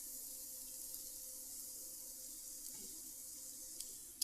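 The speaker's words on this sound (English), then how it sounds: "There's that sizzle I talked about." Chopped onions sizzle in a hot pan as the flavour base for a spiced beef and walnut filling, a steady, soft hiss running throughout with a few faint clicks and no talk.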